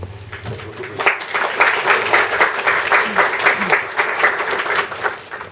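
Audience applause at an official gathering in Ukraine where the prosecutor general reads out appointment orders: a steady, dense round of many hands clapping that holds evenly for several seconds, with no voices over it.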